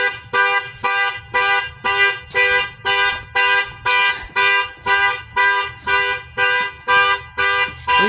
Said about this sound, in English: least we know the alarm works